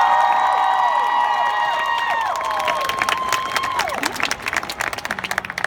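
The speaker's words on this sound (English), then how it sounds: "Let's give them both a big round of applause." Audience applause at the Harry Potter Celebration 2016 opening ceremony, Universal Orlando: sustained crowd clapping swells in as gliding musical tones fade out, then carries on dense and loud to the end.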